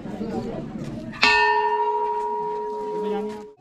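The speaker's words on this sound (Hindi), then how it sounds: "तो हमने गुरु शिखर का घंटा बजा दिया है" A large temple bell at the Guru Shikhar summit shrine on Mount Abu is struck once after some background chatter, ringing out loud and close with a long, bright, sustained tone that slowly decays over several seconds.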